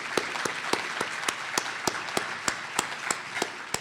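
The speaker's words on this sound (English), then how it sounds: "could we have a round of applause for Jim as well?" Audience applause fills the space, a steady wash of many hands clapping with a few distinct loud claps standing out at a regular beat.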